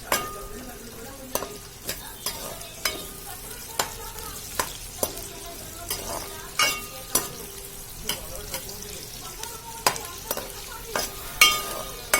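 Chopped onions frying in hot oil for a chicken curry: steady crackling sizzle with regular rhythmic scraping of a spatula stirring the pan, close and clear, with only faint background voice.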